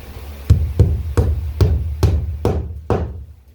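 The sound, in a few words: tacking down plywood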